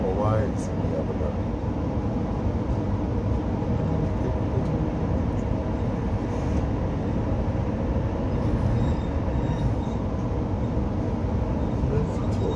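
An XPT train runs along the coast with a steady low rumble and rattle of rolling stock, heard close from inside the carriage, with people talking over the noise.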